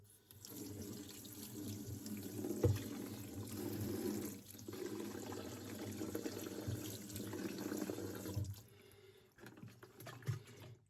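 Water runs and sloshes steadily while a 1990 Kartal radiator reservoir tank is rinsed, a continuous close splashing flow with brief louder surges, thinning toward the end.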